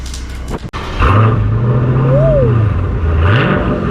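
A 2020 widebody Dodge Challenger Scat Pack with a 485 horsepower engine starts with a sharp crank, then settles into a loud, deep idle that swells in a brief rev and rises again at the end.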